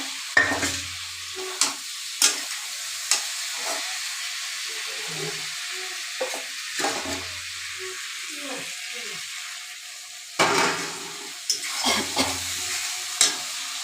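Potatoes frying in hot oil in a pan, with intermittent scraping and stirring strokes over a softer sizzle, close and fairly loud, no speech.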